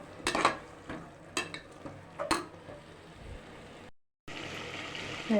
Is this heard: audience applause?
no